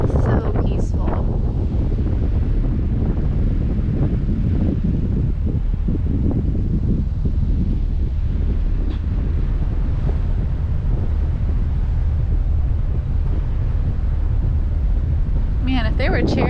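Strong wind buffets the microphone in a constant low roar at the front of a boat cruising across the Sound off Ocracoke Island, with water rushing beneath and a person talking faintly under the gusts.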